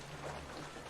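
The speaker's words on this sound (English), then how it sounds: "It's a rainy day" Steady rain pours down in a rainy in-game setting, a soft continuous hiss with a low rumble beneath, faint and unbroken over the short moment.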